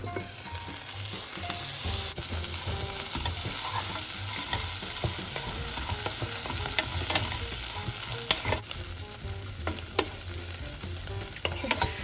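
Tandoori chicken sizzles steadily in a covered pan, a constant close crackle of hot fat with scattered sharper pops and light clinks, continuing without any voice for the whole stretch.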